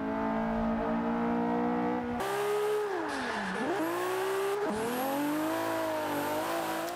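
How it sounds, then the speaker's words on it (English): A car drifting at Long Beach in the racing game Forza 5: a loud, continuous engine note that holds high, dips sharply and climbs again through gear changes, with tire squeal over it and no talking. "A little bit of a drift there."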